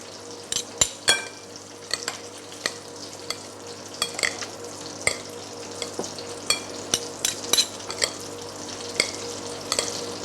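Chicken escalope frying in a pan, stirred with two spoons: a steady sizzle with repeated sharp scraping and clinking strokes of the spoons, close up and with no talking.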